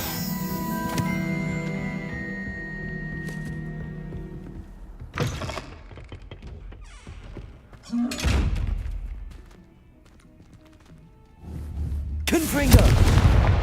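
Confringo fire spell cast in Hogwarts Legacy, bursting as a couple of heavy booming thuds amid game music and ambience, with a loud blast near the end and a voice calling out spells between them.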